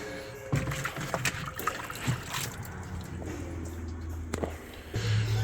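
Liquid tire sealant sloshing and gurgling inside a lawnmower tire's inner tube, with a steady low rumble and occasional splashy bursts, fairly close.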